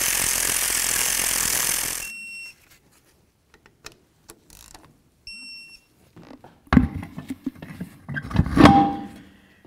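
A ratchet tightens the brake caliper slider bolts on the front brakes of a 1999-2007 Ford Super Duty F-250, giving quick close clicking bursts in the second half after a hiss and a few sparse metallic taps.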